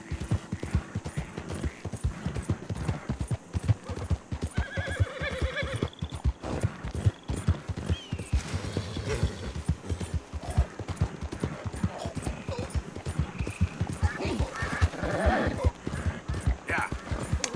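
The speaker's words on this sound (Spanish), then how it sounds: "El crujir de los tablones bajo las herraduras del caballo." Horse hooves clopping in a quick, steady rhythm over wooden bridge planks in Red Dead Redemption 2, close and continuous, with a brief whinny and someone talking over it.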